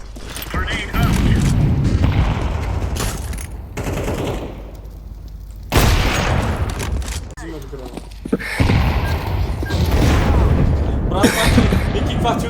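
Gunfire and explosions from the video game Counter-Strike 2 crackle and boom almost continuously, dense bursts with a loud blast around the middle, while players talk over the action.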